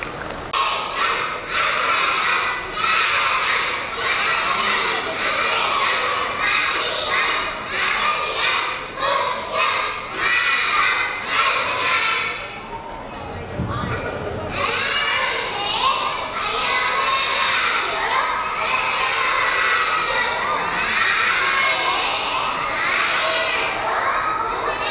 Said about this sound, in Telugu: చాలా గట్టిగా చప్పట్లు కొట్టి వాళ్ళని ఆశీర్వదించాల్సిందిగా కోరుకుంటున్నాను.